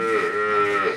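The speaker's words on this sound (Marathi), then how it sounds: "ही गाय आहे आणि गाईचाच वासराचा आवाज येतो" A Khillari cow lowing close by in one long, loud, sustained moo lasting about a second, with no voices around it.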